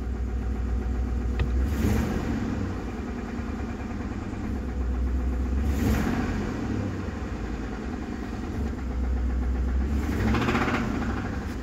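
Ford 5.4L Triton V8 running on a cold start with 5W-30 synthetic oil, a steady loud idle with a continuous low rumble and recurring swells of mechanical noise, no talking.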